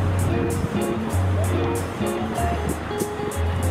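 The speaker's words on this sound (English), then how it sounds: "I have to be careful because the waves are so big" Big ocean waves surge and crash on a windy winter day in Malta, a loud continuous roar of surf close by, with a voice talking over it.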